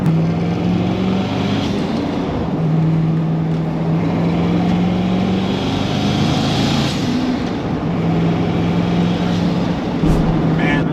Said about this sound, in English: every time I take this car out and I hear those turbos